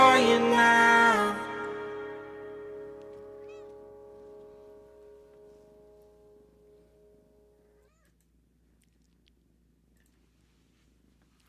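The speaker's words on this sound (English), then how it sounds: "I thought I heard a cat." A small cat named Schroeder gives a single drawn-out, tonal meow, loud and close at first, then trailing away into a long fading tail and silence.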